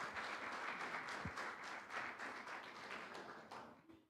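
A church congregation claps together during a Sunday morning service for Independence Day, July 20, making a steady, dense wash of applause that holds for several seconds and then fades out.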